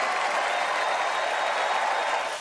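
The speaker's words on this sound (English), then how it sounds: "giving Meryl Streep a totally undeserved round of applause" A studio audience applauds Meryl Streep, steady dense clapping from a crowd holding at one level for a couple of seconds and tailing off slightly at the end.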